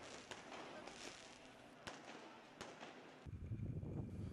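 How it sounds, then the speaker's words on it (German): Rockets and firecrackers go off during New Year's Eve celebrations in Cologne, with sharp scattered bangs and crackles at a distance over a continuous wash of noise, while a voice speaks near the end. "Raketen und Böller bringen die Nacht zum Leuchten."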